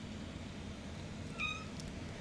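A house cat gives a brief meow, fairly close, against steady low background hum, with no talking.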